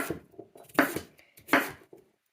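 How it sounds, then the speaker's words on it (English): Knife chopping Brussels sprouts and other vegetables for roasting on a cutting board, a few sharp, separate thuds spaced about half a second to a second apart, close up and alone. "And then I'm just going to go ahead and chop them."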